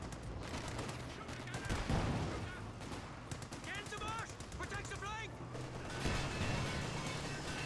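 Incendiary-round gunfire in a Company of Heroes 2 match, heard as dense, rapid volleys of shots with crashing impacts running throughout, mixed with chirpy whistling battle effects and other combat noise.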